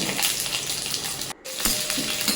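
Garlic, red chilies and fried onion roasting in a little oil in a kadhai, a steady close crackling sizzle that drops out briefly midway, with a few light clinks from stirring.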